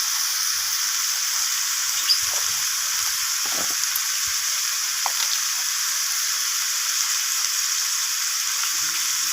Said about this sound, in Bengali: তো সবজিগুলো এখানে একটু ভাজা ভাজা হয়ে গেছে